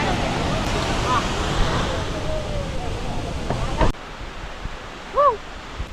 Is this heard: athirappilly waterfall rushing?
yes